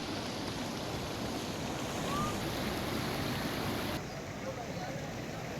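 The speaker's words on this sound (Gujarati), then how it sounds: "ધોરાજીની શફુરા નદીમાં પાણીનો પ્રવાહ વધ્યો" After heavy rain, the swollen Shafura river at Dhoraji pours over a submerged causeway, giving a loud, unbroken rushing roar that holds steady throughout.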